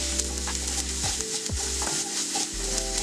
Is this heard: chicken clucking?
no